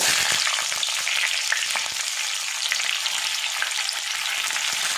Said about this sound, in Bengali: সিমটা একটু নাড়াচাড়া করে ভাজা ভাজা করে নেব